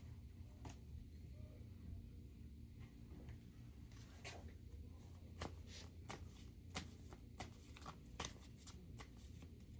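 Tarot and oracle cards shuffle in a quiet room, giving soft repeated riffling and sharp flicks that come in uneven bursts, close and faint.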